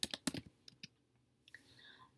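Quick clicking keystrokes on a computer keyboard while entering text into a spreadsheet, a fast burst of taps, then a few isolated presses, then a faint trailing sound, fairly quiet and close.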